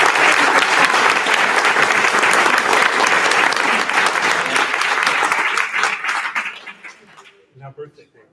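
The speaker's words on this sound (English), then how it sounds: "let's give him one more round of applause" Loud, sustained audience applause fills a book-signing event on winning political power for women, a dense wash of clapping that thins out and trails off into a few scattered claps at the end.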